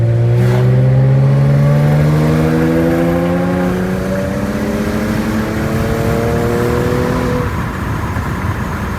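A Porsche 911 GT3 Touring accelerates hard close by, its engine note climbing through several gears in a loud, rising wail, then settling into a steady rumble as it cruises.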